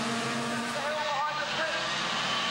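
Junior racing karts roar past on a sprint championship track, a dense continuous whine of small engines heard under a race commentator's voice.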